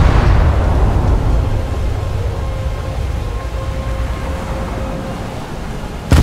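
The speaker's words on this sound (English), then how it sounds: "The enemy ship has been torpedoed." A torpedo strikes an enemy ship in War Thunder, producing a loud, sustained roaring rumble of explosion that stays heavy and broad for several seconds before a sharp burst at the very end.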